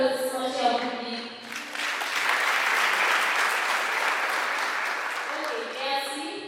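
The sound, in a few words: audience applause at a graduation ceremony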